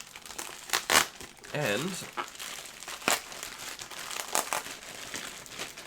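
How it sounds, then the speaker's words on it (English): A mailed package holding a Bitfi.2 hardware wallet is torn open with loud crinkling and ripping of the wrapping in irregular bursts, close by, while a person talks briefly. "Let's rip straight into this,"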